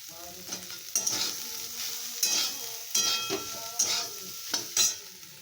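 Food frying in a pan in a home kitchen, a soft steady sizzle broken by about six sharp scraping strokes of a spoon stirring, fairly quiet and without talk.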